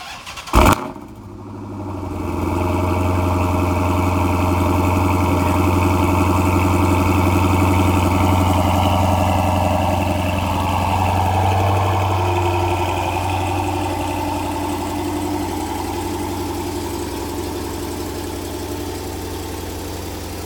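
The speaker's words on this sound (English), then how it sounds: "The car's not normally that loud, just obviously on a cold start." A 2012 Dodge Challenger SRT-8 V8 fires up on a cold remote start with a sharp crank, surges to a loud high idle, then holds a deep steady rumble that slowly eases down.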